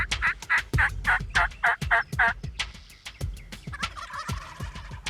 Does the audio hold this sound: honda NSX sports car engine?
no